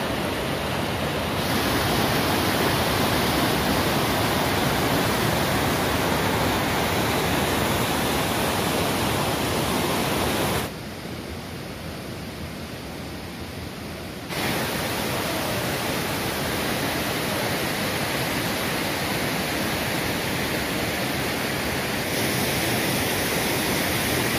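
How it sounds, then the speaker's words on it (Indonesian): A steady, roaring rush of falling water from the Lembah Karaeng waterfall in Indonesia fills the scene continuously, briefly dipping quieter partway through before returning at full strength. "menikmati air terjun"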